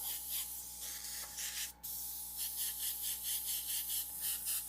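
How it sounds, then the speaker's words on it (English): An airbrush sprays Caribbean blue paint heavily in a steady, fine hiss that pulses in short rhythmic bursts, briefly cutting off once, with a faint constant hum beneath. "I'm spraying it really heavy."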